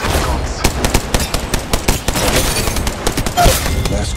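Sustained automatic gunfire rattles through a battle-royale firefight, a dense, loud string of rapid shots with a few heavier cracks, nearly unbroken for several seconds and with no talking over it.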